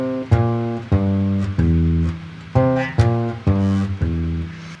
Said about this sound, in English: Then the C 7th, which is just going down the arpeggio